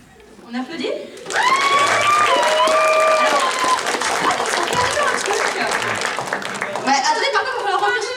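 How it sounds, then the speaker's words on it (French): Crowd applause and cheering for cosplay contestants at a French game-festival cosplay contest, a loud sustained ovation after a quiet start, with whoops, scattered laughter, a few voices and a high whistle-like tone rising over the clapping. "On applaudit?"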